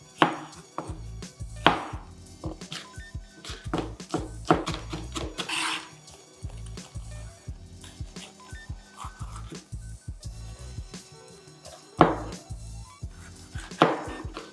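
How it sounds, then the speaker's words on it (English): A knife chops aromatics on a cutting board while prepping festive Christmas rice, giving quick irregular clusters of sharp taps with brief pauses, close and clear, with no talking. "you want to try and cut all the aromatics to be around the same size"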